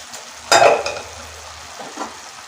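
A spoon stirs cauliflower cooking in a pan, with one sharp scrape and clatter followed by a soft, steady sizzle and a few lighter stirring strokes, heard close and without talk.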